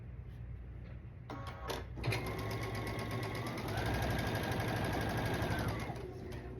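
A sewing machine stitches a line through quilt fabric, its rapid needle clatter running steadily and close with a few brief clicks and handling sounds at the start.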